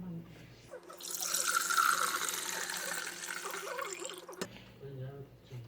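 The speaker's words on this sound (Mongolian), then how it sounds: "Ус буслагчин дэх усыг буцалгаагүй юм чинь одоо энэ данх руугаа зүгээр хийчихье." Water poured from a tap or container into a kettle in a kitchen, a steady rushing stream lasting several seconds before stopping abruptly, moderately loud and close.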